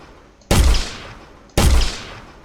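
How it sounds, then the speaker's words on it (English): Two sharp gunshots from line-trace shooting in an Unreal Engine multiplayer first-person shooter, each a loud sudden crack with a lingering decay, spaced about a second apart, no talking. "So as you can see, I can shoot anywhere."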